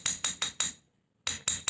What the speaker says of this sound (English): I would actually use my chasing hammer